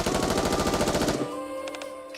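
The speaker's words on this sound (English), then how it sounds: "P12 tilts her gun up and fires into the air." A rapid, evenly spaced burst of gunfire from the NIKKE video game, shots fired into the air, rattles loudly for about a second before cutting off, leaving a quieter tonal tail with a few faint clicks.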